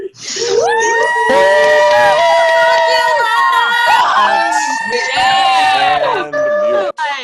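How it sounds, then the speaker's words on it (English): Graduates and audience on an unmuted Zoom graduation call cheer, shout and whoop together in an overlapping, loud burst of many voices lasting several seconds before cutting off. "let's get a final unmute and cheer for our graduates on the count of 3"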